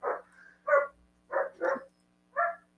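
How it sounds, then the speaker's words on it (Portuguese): A dog barks in five short, sharp yaps at home, left alone as someone leaves the house, spaced irregularly against a faint steady hum, fairly quiet and somewhat distant. "Ó, o cachorro."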